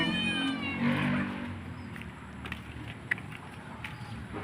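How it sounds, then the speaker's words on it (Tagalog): A cat meows a few times up close, its voice rising and falling, with faint outdoor background noise behind it. "meow meow meow"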